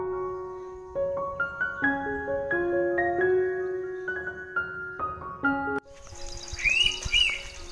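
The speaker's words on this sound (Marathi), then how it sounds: "पक्षी बघ कशा ओरडतात." Birds chirp and call outdoors near the end, after a stretch of steady, melodic tones that carry through most of the clip; the chirps are fairly close and clear, with no talking.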